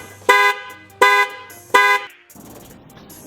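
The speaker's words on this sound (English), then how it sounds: "when I put this back on, it activated the alarm" A Lincoln Town Car's alarm blares after its battery is reconnected, three loud evenly spaced horn blasts close by, followed by a quieter rumble and rustling.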